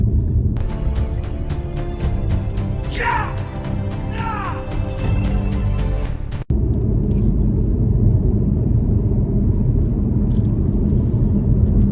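A car drives on the road, heard from inside the cabin: a loud, steady low engine and road rumble that continues throughout, with a brief sharp clunk partway through, and no voices.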